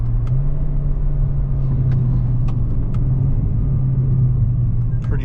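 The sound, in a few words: Toyota Corolla XSE Hatchback engine downshifting with paddle shifters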